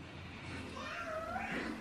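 A house cat lets out a single drawn-out meow, faint and slightly wavering, over a low indoor background hum without talk.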